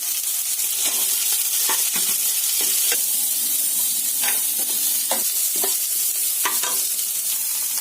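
Chopped cabbage stir-fried in a hot pan with capsicum, a steady loud sizzle broken by repeated scraping stirs of the spatula, with no voices.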